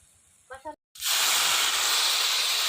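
Water hits a hot pan of sizzling Bengali crab curry with a sudden loud, steady hiss that fills the rest of the clip after a short pause, with brief speech just before it.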